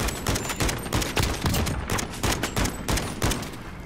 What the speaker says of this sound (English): Ignore the shooting